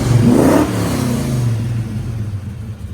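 A supercharged 1967 Chevrolet Camaro RS engine revs hard, a loud, deep rising roar that peaks early and then settles into a steady, rumbling idle-like drone, heard close from behind the car.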